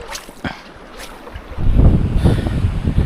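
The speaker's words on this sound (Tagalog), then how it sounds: "Masyadong malakas yung hangin, tsaka masyadong malakas yung malalaki yung mga alon" Strong wind roars against the microphone at sea, growing louder partway through, with heavy rushing water and big wave noise underneath.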